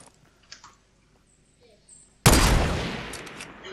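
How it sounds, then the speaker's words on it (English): A sudden loud blast of gunfire in Fortnite breaks a quiet stretch of faint clicks, then rings out and slowly decays. "They're getting shot at by somebody."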